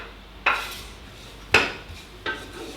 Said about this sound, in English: I'm cutting the garlic.